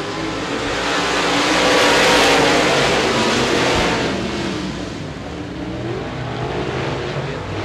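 Modified race cars roar off together at a green-flag start on a short oval track, a loud sustained engine wall that swells as the pack accelerates and then holds steady, no talk over it.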